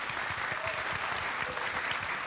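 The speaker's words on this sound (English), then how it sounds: "Round of applause for that." A basketball tip-off reception crowd gives a brief round of applause, even and fairly soft clapping from a room of people, with no voices over it.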